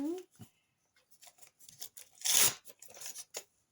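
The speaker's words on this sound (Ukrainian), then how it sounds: "Прям дуже так добре відкриття пакетик" A blind bag packet is torn open up close, one loud ripping burst standing out among softer crinkles and handling noises, with a voice talking around it.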